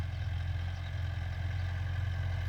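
Farm tractor working a rice field in Non Sai district, a steady mid-low engine drone with faint clatter, constant and moderately distant, nothing else over it.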